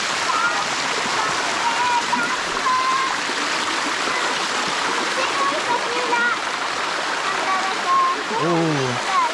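The Sticky Waterfall in Thailand, wet from recent rain, gives a steady, full rush of flowing, splashing water from start to finish. A brief voice surfaces near the end.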